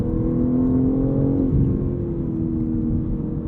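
2023 BMW M3 Competition xDrive engine note while driving, a steady, close, droning hum under load with slight changes in pitch, alone and with no talking.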